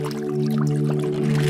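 Bathtub tap water pours steadily over a toy car track, making a small waterfall. A continuous close splashing rush runs under a steady droning hum for the whole stretch.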